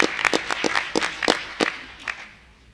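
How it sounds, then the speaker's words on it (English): A forum audience claps in a short burst of spaced, fairly sparse handclaps that thin out and fade after about two seconds. "If we can have a round of applause."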